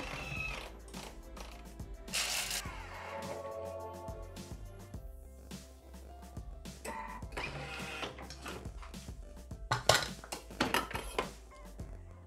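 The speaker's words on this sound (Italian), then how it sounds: "mettiamo le mandorle e le facciamo tritare per 15 secondi a velocità 10" A Thermomix food processor chops almonds at speed 10, whirring and clattering as the hard nuts rattle around the bowl, a busy choppy grinding for several seconds at moderate volume.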